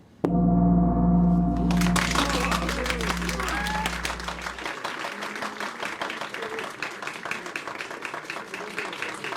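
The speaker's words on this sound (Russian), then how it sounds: "Ваши аплодисменты." Audience applause at a quiz game show: dense, steady clapping from a crowd that starts abruptly after a held musical tone and continues loudly to the end.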